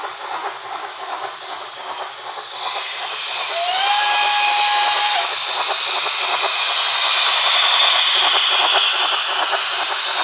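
A Broadway Limited Paragon 3 Pennsylvania Railroad L1s steam locomotive model runs with a steady mechanical hiss and rattle, joined partway through by a rising synthetic steam whistle that holds for a couple of seconds before fading back into the continuous running noise.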